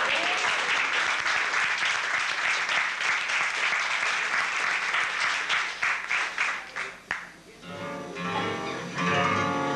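Sustained audience applause for a tango performance at Café Tortoni, loud and dense, tapers off after several seconds into scattered claps before music begins.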